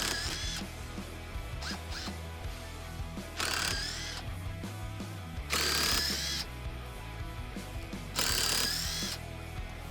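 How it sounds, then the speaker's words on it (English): Loud bursts of a TECCPO 20V MAX 1/4-inch cordless impact driver rattling screws into a treated 4x4 post, three or four hammering runs separated by clicks and handling noise. "No issue at all drilling screws into a treated 4x4"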